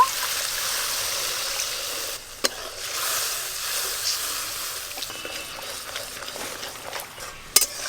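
Water goes into a pan of frying garam masala and fried onion paste, giving a steady, close bubbling sizzle. A few sharp utensil clicks break through the hiss near the start and the end.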